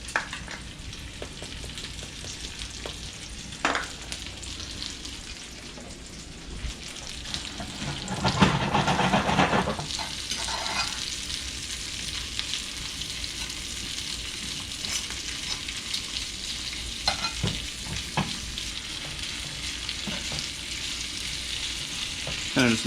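Potatoes frying in oil in a cast iron skillet for a breakfast dish, a steady close sizzle throughout with periodic scraping and clacking from stirring, swelling into a louder burst of stirring midway.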